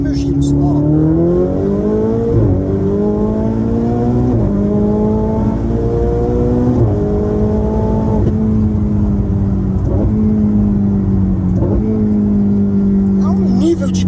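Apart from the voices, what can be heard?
Ferrari 488 Spider engine revving in second gear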